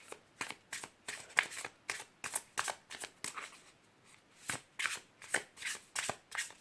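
Tarot cards being shuffled in a series of quick, crisp riffles and flicks, close and fairly soft, coming in two uneven runs with a short lull between them.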